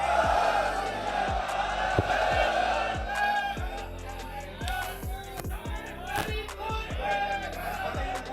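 A large crowd at a Sikh political rally on land rights roars back the jaikara response in loud unison, a sustained chorus of many voices close and full, with sharp knocks and clatter scattered through it.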